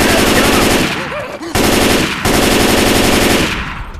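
Loud, close automatic gunfire bursts in the zombie shooter game Left 4 Dead 2, with rapid rattling volleys broken by brief pauses and a faint voice in the background.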